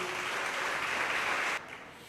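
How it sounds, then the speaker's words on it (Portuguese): A church congregation claps during a sermon, a fairly soft, dense spatter of applause that cuts off abruptly near the end, leaving quieter room tone. "dá um aplauso ao Senhor Jesus"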